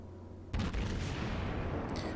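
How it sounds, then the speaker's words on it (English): Heavy naval guns fire in a World of Warships naval battle against a destroyer, a sudden loud boom that swells into a sustained rumbling roar of gunfire, with a brief sharper crack near the end. "Now, I am shooting the destroyer."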